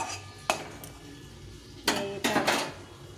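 Jujube (kul) pickle made without oil or water is stirred in a pan, giving three close metallic scrapes and clinks: one short knock near the start, then a sharper clatter and a double scrape toward the end, with quiet between.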